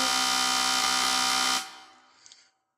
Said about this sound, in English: So if you just rattle the drumstick or the teeth of a comb fast enough, you would get something that sounds like this.